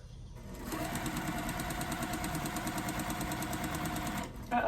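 A home sewing machine stitches a quilt row for a checkerboard block, starting after a brief pause and running at a steady, close, whirring pace before slowing to a stop.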